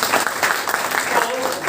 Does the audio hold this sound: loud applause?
yes